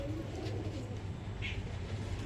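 Soft, low cooing of Giribaz pigeons in cages at dusk repeats in a steady murmur, faint and somewhat distant, with a brief higher chirp partway through.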